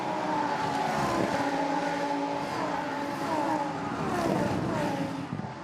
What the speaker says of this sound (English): Behind him is Riccardo Iannello with the Italian colours on his carbon black car, trying to find a way through.